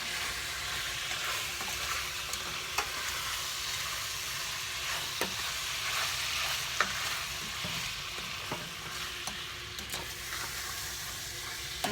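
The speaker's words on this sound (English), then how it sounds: "And I already fry it really well." Chicken frying and being stirred in a pan for curry: steady close sizzle with scattered scraping stir clicks throughout, no talking.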